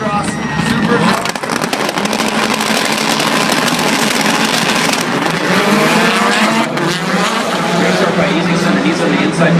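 Ford rallycross Supercars racing at Irwindale, engines screaming loudly as they pass close by, with rising and falling revs, tire squeal and a roaring crowd-like wash over several seconds under some speech.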